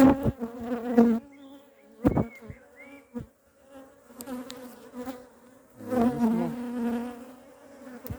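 Honeybees buzz around an open hive at an apiary, a close, wavering drone with individual bees zipping past the microphone, punctuated by a few sharp knocks and handling bumps.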